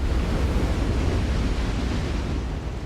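Giant ocean breakers crash at sea, a loud, close, continuous roar of churning surf and rumbling white water mixed with wind buffeting, steady throughout with no voices.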